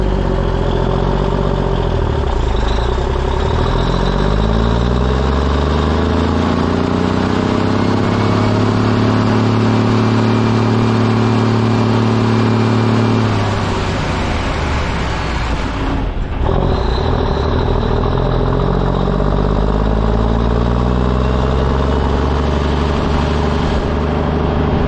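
A 1980 Autocar Construcktor truck hauling a load, its heavy diesel engine droning loud and near, pitch rising and falling through gear changes, with a brief drop in revs partway through.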